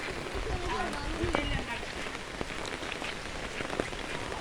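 Steady rain falls over a flooded village, a dense continuous patter of drops on water and surfaces, with faint voices underneath.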